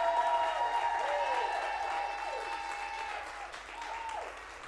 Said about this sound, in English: So let's clap it up for them